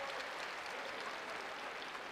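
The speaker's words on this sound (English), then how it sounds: "And a round of applause from the Husker fans" Nebraska Husker fans applaud at a men's college wrestling dual against North Carolina, a brief, even wash of clapping from a crowd in the arena.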